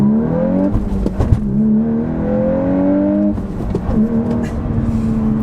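A 2022 Volkswagen Golf R with a manual gearbox accelerates hard, its engine pitch rising through a couple of gear shifts, heard from inside the car with no talking.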